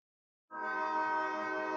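A loud, sustained train horn blasts suddenly after a brief silence and holds steady without fading.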